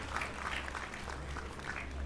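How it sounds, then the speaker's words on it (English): Audience applause at a JCI Cebu gathering, a steady, fairly quiet wash of clapping from a crowd with no talk over it, holding even for about two seconds. "Can we clap our hands for him?"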